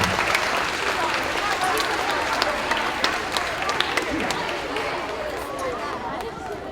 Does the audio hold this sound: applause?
yes